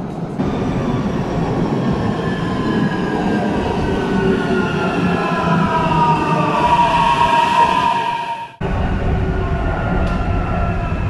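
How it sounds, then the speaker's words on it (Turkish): A metro train on Istanbul's Anatolian side rolls in with a loud, steady rumble and rising metallic whine and squeal, then a brief sharp cutoff before the noise resumes. "Metro gelmek üzere."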